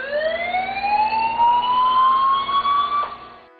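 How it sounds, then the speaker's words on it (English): Chlorine emergency alarm at a water treatment plant: a loud electronic siren tone rising steadily in pitch over about three seconds, then cutting off and fading, heard alone. "Here is the chlorine emergency alarm."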